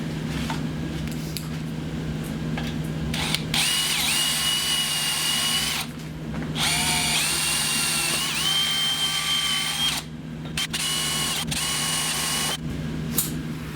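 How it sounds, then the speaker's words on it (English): A power drill whines in several bursts of a few seconds each, separated by short pauses, with a steady motor hum underneath, drilling out a bolt hole on a 2000 Audi TT Quattro 180. "I'm going to just drill it out and tap it"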